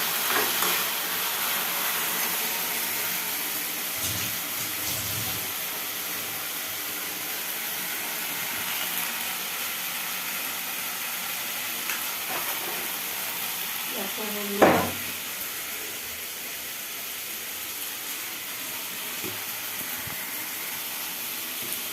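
Fish sizzles steadily in hot oil in a pan, a soft continuous hiss with a brief clatter near the middle, fairly quiet and without clear talk.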